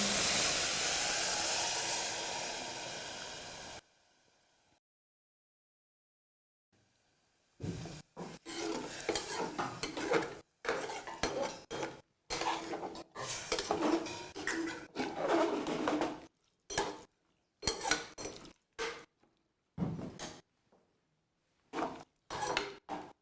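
Coconut milk poured into biryani rice in a pot during a quick veg dum biryani, a steady pouring hiss for about four seconds, then silence and a run of clinking, stirring scrapes against the pot.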